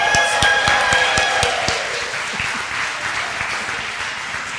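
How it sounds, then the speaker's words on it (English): Audience applause at a Hope Village launch event, loud crisp clapping at first that gradually thins and fades over a few seconds, with no talking. "So if you would all applaud for Chris."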